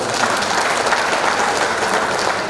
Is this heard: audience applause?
yes